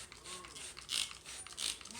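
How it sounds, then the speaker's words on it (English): A spray bottle misting potting soil while repotting an Othonna capensis 'Ruby Necklace' succulent; two short, soft hissing squirts about a second apart, faint and close, with no talk. "I'm just going to spray as I go."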